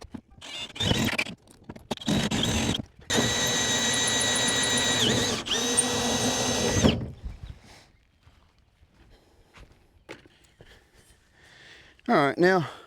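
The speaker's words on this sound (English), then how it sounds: "It's kind of a pain to drill through this plastic." A power drill works against round plastic pipe on a farm in loud whining bursts of several seconds, stopping and restarting, with quieter scraping and handling noises between runs.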